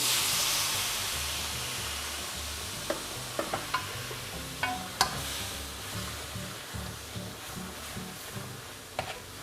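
Wild boar pork stir-fried over high heat with curry paste and water added, making a soft continuous sizzle with scattered scraping and tapping stir strokes, close and fairly quiet.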